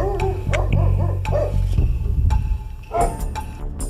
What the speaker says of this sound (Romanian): Da, așa că e câine.